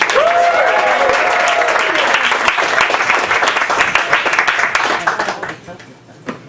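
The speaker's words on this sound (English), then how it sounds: "give a big round of applause for your host of tonight's show, Amber Rollo" A live show audience applauds loudly for the host with scattered cheers and whoops, the clapping dense and steady before tapering off near the end.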